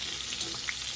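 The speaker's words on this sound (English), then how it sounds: "You can hear the sizzle." Food sizzles and fries in a pan of melted shortening on an off-grid cooking setup, a soft, steady crackling hiss with small pops, fairly quiet and without talk.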